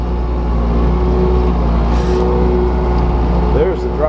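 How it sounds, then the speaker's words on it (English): A Toolcat utility vehicle plowing snow, its engine droning loud and steady as the revs climb, close to the microphone with a constant low rumble throughout. "I got to turn up the RPMs"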